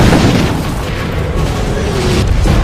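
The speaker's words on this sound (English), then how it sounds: "The Americans fire mortars to try and stop the second wave of tanks." Mortar rounds exploding during a Vietnam War tank battle, a loud continuous rumbling boom with deep low-end roar and little break, heard close.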